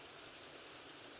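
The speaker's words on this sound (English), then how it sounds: "Just the gentle sound of the rain" Gentle rain falls steadily in a Rise of the Tomb Raider cutscene, a soft, even hiss of drops with no break and no voices, heard up close at a low level.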